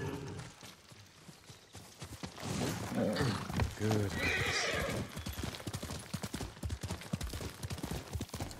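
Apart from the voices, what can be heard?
horse hooves approaching in video game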